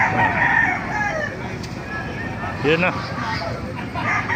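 A rooster crows amid a busy, noisy chicken market in Baliuag after rain, with people talking close by and more crowing layered into the background chatter.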